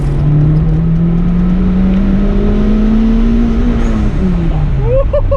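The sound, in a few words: Acura Integra turbo engine revving on test ride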